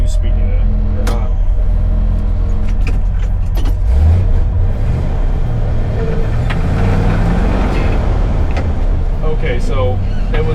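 A 1970 C50 grain truck drives with its two-speed axle being tested, a loud, low engine rumble with gear changes and shifting pitch, and a person speaks over it.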